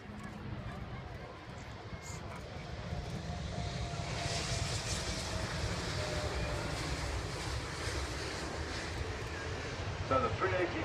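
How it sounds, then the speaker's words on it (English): An Airbus A380 touches down at the Farnborough Airshow in 2016, its engines a broad, distant roar that swells steadily, while a commentator talks over it. "So the 380 touching down."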